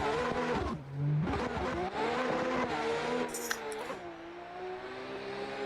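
A drift race car at a Montreal qualifying round revs hard and pulls away from the start line. The engine note climbs and shifts through several pitch rises, loud and close, with a brief tire squeal and a commentator talking over it.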